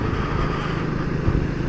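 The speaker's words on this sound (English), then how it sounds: "You can always hear that exhaust." A Triumph Speed 400 motorcycle's exhaust sends out a steady, close engine drone that holds at an even level throughout, with no voices.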